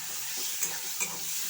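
Onion paste sizzling in hot oil for a spinach and cauliflower curry, a steady broadband hiss with a couple of brief stirring scrapes, fairly quiet and close, no voices.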